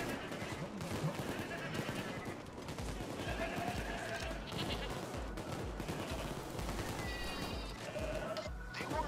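A goat bleats inside the Payday 2 video game, its short bleats breaking through dense gunfire and busy game noise, with voices talking over the action.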